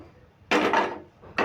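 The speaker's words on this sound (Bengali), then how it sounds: "কড়াই বসিয়ে দিলাম" A metal kadai (wok) is set down on a gas stove in a home kitchen, giving two short, loud clanking knocks about a second apart against a quiet background.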